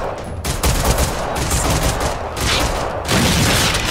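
Pistol gunfire in the video game Generation Zero crackles as rapid, dense shots fired almost continuously, loud and close, with brief gaps between bursts.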